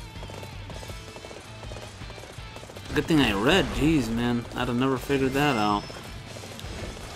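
Horse galloping in Dynasty Warriors 8 Xtreme Legends, rhythmic hoofbeats running steadily beneath battle noise, with someone talking over the latter half.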